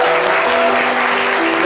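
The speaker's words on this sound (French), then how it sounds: "Applaudissez-la bien fort." A live French TV variety show audience applauds loudly and continuously for a young woman called up from the crowd, a dense, close wash of clapping with no pauses.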